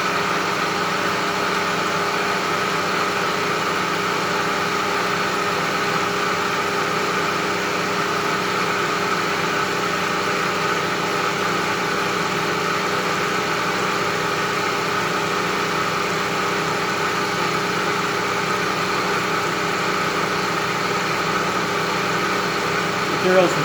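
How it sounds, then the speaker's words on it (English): A machine tool cutting an aluminum tool holder bridge, a steady continuous machining drone with tonal hum that holds at an even level throughout. "Material's machining real nice, as it always is with aluminum."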